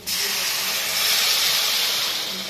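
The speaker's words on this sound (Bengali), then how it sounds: "মশলাটা ভাজা হয়ে গেছে এখন এর মধ্যে আমি জল দিয়ে দেবো" A sudden burst of loud hissing sizzle as water hits hot oil and fried spices, holding strong and steady for a couple of seconds, close up.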